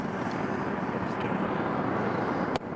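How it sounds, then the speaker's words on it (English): Jet planes roaring in near Atlanta airport make a steady, broad, distant rumble heard from indoors through a window, ending with a short knock. "if you listen out the window, you can hear the jet planes roaring in"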